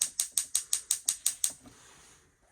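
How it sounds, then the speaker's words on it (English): A gas hob igniter in a camper van clicks eight times in a quick, even rhythm, sharp and close, then falls quiet after a faint hiss. "to turn on your gas hob, simply press down for the clicker"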